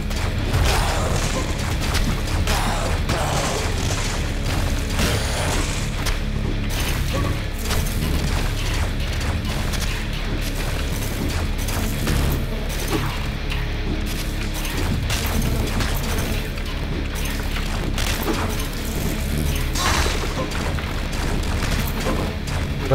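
Heavy cannon fire in the side-scrolling metal action game Valfaris, a dense stream of deep booms and mechanical clanks with crashing impacts, loud and continuous over a pounding soundtrack.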